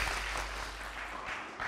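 A studio audience claps on a television quiz show, a faint, steady wash of applause with no voices over it.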